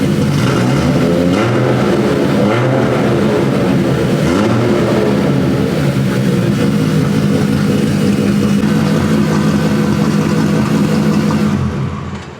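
A tuned, forged RB25 engine runs loud and close, with a steady idle broken by repeated throttle blips and revs. It settles back down between them, and the sound stays steady before fading at the very end.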